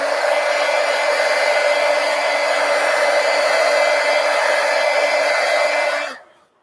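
A hair dryer runs steadily at close range, a loud continuous blowing whir that holds for about six seconds and then cuts off abruptly, leaving silence.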